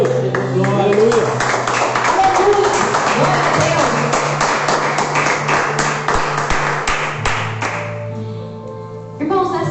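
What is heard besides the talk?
church congregation clapping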